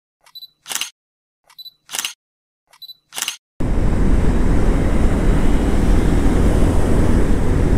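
Three quick mechanical camera shutter clicks at a roadside stop by a canal during a motorcycle trip from Kolkata to Ajodhya Hill, each click crisp and close in near silence, followed by a sudden steady roar of wind and road noise.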